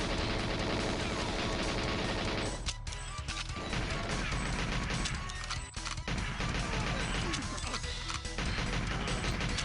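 Dense gunfire and crashing impacts from a massive rifle in a Mario 64 mod of the GoldenEye 007 video game, loud and nearly continuous with brief gaps, over busy game noise.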